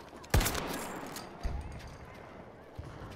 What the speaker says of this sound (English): Shotgun is disgusting.